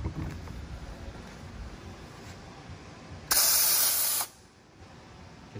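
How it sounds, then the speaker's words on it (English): Foaming grease cleaner sprayed from a can onto an airplane propeller, one loud, close burst of hissing spray lasting under a second against quiet hangar background. "So foam it on there and we'll see how well it takes this grease and"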